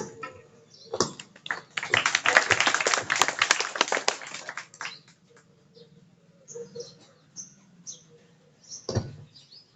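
An audience bursts into applause after a Gujarati devotional song, a dense, loud wash of clapping lasting a few seconds that quickly thins into scattered, isolated claps and quiet.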